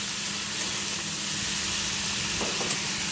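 Fried and steamed cauliflower sizzles in a pan as a dense, even hiss up close, with a couple of faint stirring scrapes near the end.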